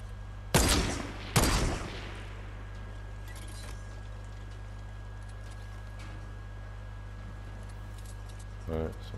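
Gunfire in the Fortnite video game: two sharp, loud shots about a second apart, then a steady low hum with a faint burst near the end.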